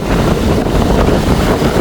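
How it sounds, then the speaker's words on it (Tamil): Rough sea waves churned up by Cyclone Ditwah pound the shore at Jaffna, a loud, dense, unbroken roar mixed with wind buffeting the microphone. "கிட்டவே போக இல்லாத ஒரு நிலைமை இந்த கடல் அலையில் பாருங்கள்"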